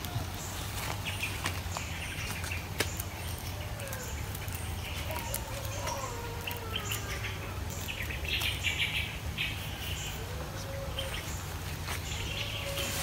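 Birds chirping and calling near a cage trap outdoors, scattered faint tweets over a steady low hum and insect-like background, with no talking.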